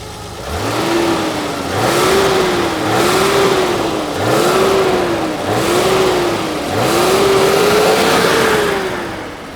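A warmed-up BMW engine in a restoration shop is revved repeatedly, about six rising and falling swells over a steady running drone, loud and close with no voices.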